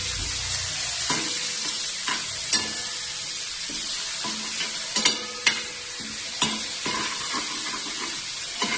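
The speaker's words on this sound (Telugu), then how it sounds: "ఆవాలు, జీలకర్ర, ఉల్లిపాయ, బంగాళదుంప, అల్లం తరుగు అండ్ కొంచెం కరివేపాకు వేసుకుని పైకి కొంచెం కలిపేది" Mustard seeds, cumin, onion, potato, ginger and curry leaves frying in a pan for a cabbage curry, with steady close sizzle and repeated scraping stirs of a spoon against the pan, no voices.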